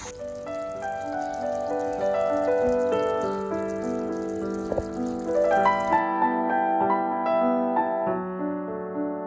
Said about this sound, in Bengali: তো এবার হচ্ছে পরিমাণ মতো জল দিয়ে দিলাম।